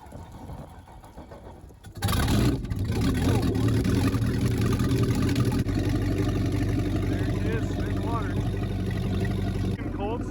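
A 2001 Tige 21v Riders Edition boat engine cranks and catches after about two seconds of quiet, then runs steadily and loudly at idle to the end, with voices talking over it.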